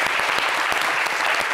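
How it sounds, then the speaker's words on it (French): Dense, steady audience applause fills a studio talk show after the host calls for another round for a town mayor. The clapping stays loud and continuous throughout, with no voices over it. "est-ce qu'on peut l'applaudir encore?"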